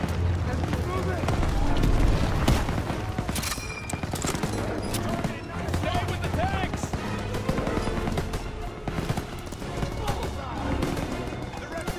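Gunfire aimed at an MG42 machine-gun nest in the World War II shooter Call of Duty WW2 is a dense, continuous battlefield barrage of rapid shots and booms. Voices talk over much of the din.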